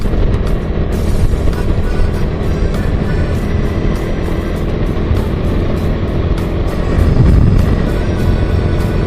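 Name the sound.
small cars passing on the road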